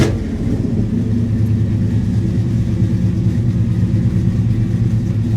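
A vintage muscle car's engine idles close by with a deep, steady, throbbing rumble that holds evenly throughout, no talk over it.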